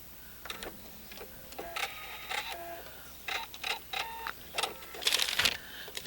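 Sewing machine stitching fabric pieces for a twisted quilt block, heard as several short bursts of whirring stitching with pauses between, fairly close and moderately loud.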